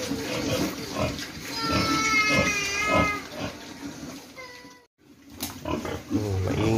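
Young Duroc pig on a farm making loud close repeated grunts and squealing cries, several in quick rhythm, with a short quiet pause near the end.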